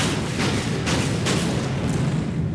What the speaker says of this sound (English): So we'll open fire.